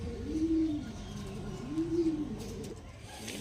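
Andhra racing pigeons, offered for sale as tournament winners, coo softly. There are two short, fairly faint coo phrases about a second and a half apart over a quiet background.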